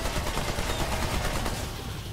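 Gunfire in the video game Remnant 2, a dense, continuous burst of rapid shots filling the whole moment at steady loudness with no talk over it.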